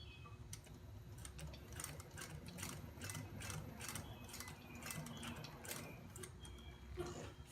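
Sewing machine stitching a zippered pouch, a fast rapid ticking and clattering of the needle mechanism running continuously for several seconds, faint and close, with no voices.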